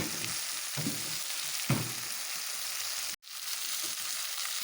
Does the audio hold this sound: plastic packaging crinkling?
no